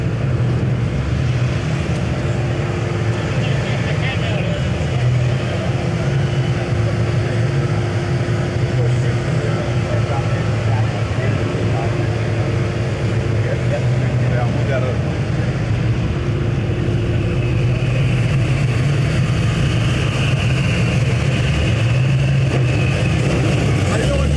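Magnuson-supercharged hot rod engine idling at a muscle car show, a steady low rumble running continuously and loud throughout, with people talking nearby over it.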